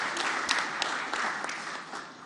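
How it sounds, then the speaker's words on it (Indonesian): An audience at a party event applauds the party chairwoman, dense steady clapping that fills the whole stretch at fairly close range. "kita berikan tepuk tangan yang meriah bagi Ibu Ketua Umum"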